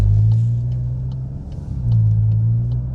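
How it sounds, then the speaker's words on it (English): Stage 3 tuned VW MK8 GTI pulling away, a steady low engine drone and road rumble heard from inside the cabin, swelling slightly near the end with no talk. "setting off in the Stage 3 GTI"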